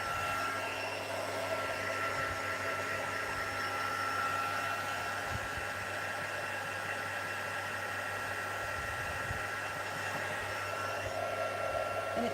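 A craft heat tool blows a steady, fairly faint hum and airy rush as it dries watercolour on stamped paper, running without a break and with no talking.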